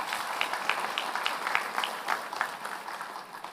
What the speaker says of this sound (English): Can we please give a round of applause again?